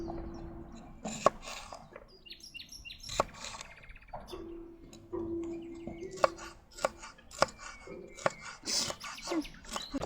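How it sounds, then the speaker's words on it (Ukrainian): A knife chops ingredients into large pieces on a board for Transcarpathian bograch stew, giving irregular sharp close knocks spread through quiet background with a few faint bird chirps. "Ми їх поріжемо порційно, але не на маленькі шматочки, а на великі шматочки."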